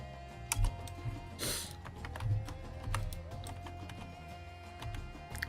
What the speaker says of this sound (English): I didn't mean to be typing.